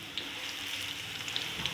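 Onions sizzle steadily in hot oil in a pan for matar chana dal, a close, even frying hiss with small crackles and no talking.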